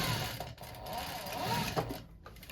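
A sewing machine runs steadily stitching the seams of a rolltop rucksack, a close continuous whirring drone with a brief dip midway and a slowdown at the end.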